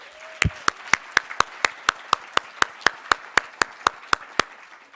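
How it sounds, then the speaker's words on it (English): Steady, evenly spaced hand claps ring out sharply, a quick regular beat of about four claps per second carrying on throughout. "please give a round of applause to all of our judges for tonight"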